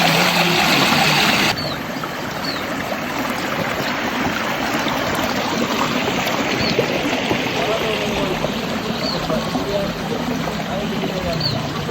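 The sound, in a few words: clear river stream flowing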